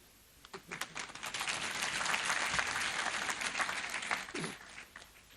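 A graduation audience at TEAU University applauds the chief guest, producing a dense, steady wash of many hands clapping together for about five seconds, with crowd noise under it.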